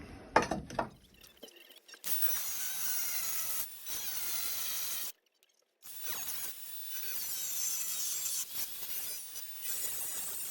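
A steering column mounting bracket is cut off a V12 Speedster project car, with harsh rasping and grinding bursts of metal cutting broken by short pauses and a brief silence, close and fairly loud.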